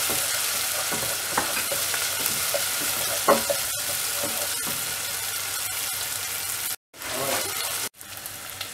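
Tomato being sautéed with crushed ginger and garlic in a pan for a radish and egg stir-fry, giving a steady frying sizzle with scraping stirs, briefly cutting out twice near the end.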